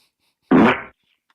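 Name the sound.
wet fart sound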